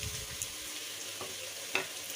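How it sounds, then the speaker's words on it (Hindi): Sliced onions sizzling in half a cup of hot oil for a Hyderabadi Sindhi degi chana pulao, a steady close hiss with a few faint stirring ticks and no voices. "मैंने इसमें आधा कप तेल लिया है और ये थोड़ा से अच्छे से गर्म हो गया है। अब इसमें प्याज डाल देंगे"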